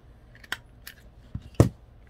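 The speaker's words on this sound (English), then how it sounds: "That wasn't a very successful corner snip." Scissors snip the corners of paper during card making, giving a few quick, quiet, crisp cuts close by in a still room.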